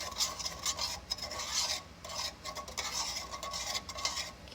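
A spoon stirring a mixture in a bowl, continuous rasping scrapes in uneven strokes with a brief pause midway, close and soft, no talking.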